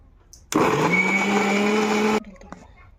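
An electric mixer grinder whirs loudly for about two seconds as it grinds ginger, garlic, onion and green chili into a paste, starting abruptly and cutting off sharply, with a steady rising motor whine.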